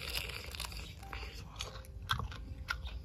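Biting into a steamed mud crab (ba khía) claw outdoors at night, giving a series of close, crisp crunches and cracking snaps over a low background rumble.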